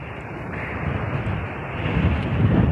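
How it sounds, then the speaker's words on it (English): Strong wind gusts across a desert hilltop in the 60s°F weather, buffeting the microphone with a deep, roaring rumble that swells louder toward the end, with no one speaking. "really windy"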